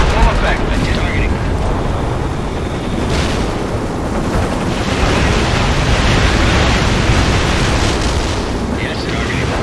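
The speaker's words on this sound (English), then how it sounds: "Cluster bomb hits for full effect." Cluster bomb strikes in the World in Conflict strategy game make a dense, continuous roar of overlapping explosions and rumbling debris, loud and sustained throughout with no clear breaks.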